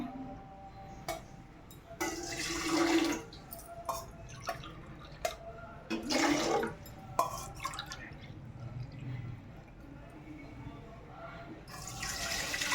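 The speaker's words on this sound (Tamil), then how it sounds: "இப்போ நம்ம பால் ஊற்றிக்கலாம்." Milk poured into clay pots for a home Pongal celebration, where bananas and arugampul grass have already been placed in both pots. Liquid splashes and drips come in short bursts, at moderate volume, over a faint background.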